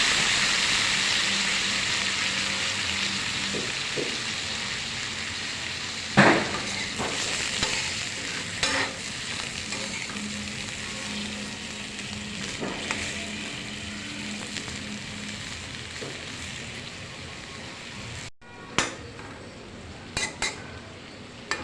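Shrimp fry in butter with Sprite in a home kitchen pan, a steady close sizzle running throughout while a utensil clinks and scrapes against the pan at intervals during stirring, with no one talking.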